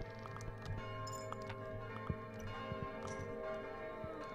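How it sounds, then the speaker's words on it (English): Church-like bell tolling in the video game Kingdom New Lands, a steady ringing tone with a few clinks and soft game noises layered under it, moderately loud and continuous. "The bell rang."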